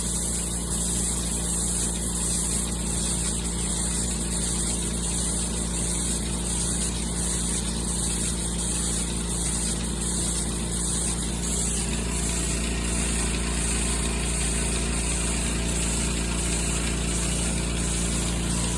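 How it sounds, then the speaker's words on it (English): Goat milking machine pump running steadily on a farm, a continuous loud mechanical drone with a rhythmic pulsing texture as it sucks milk, unbroken throughout with no talk. "you can see the inflation pulsate and suck the milk out"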